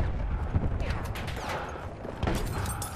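Weapon fire in the shooter game Battlefield 1, a dense, continuous rattle of shots and blasts over three seconds with no clear gaps, loud and busy throughout.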